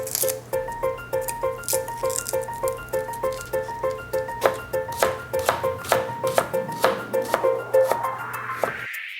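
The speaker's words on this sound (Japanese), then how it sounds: "にんにくは一度潰し、皮を剥きスライスします。" Garlic is crushed, peeled and sliced with a knife on a board for wagyu beef tataki, a fast, regular run of crisp chopping taps over soft background music.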